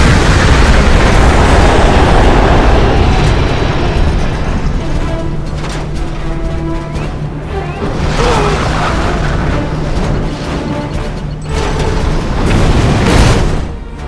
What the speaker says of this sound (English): Air fleet engaged. EMP missiles.